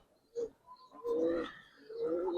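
Giribaz highflyer pigeons, a breeding pair, coo at close range in low throaty repeated phrases, with a few brief pauses between calls.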